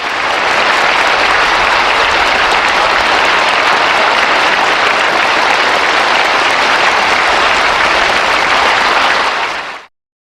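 Warm, sustained applause from a large crowd at a party meeting stays dense and loud for about ten seconds, then stops abruptly.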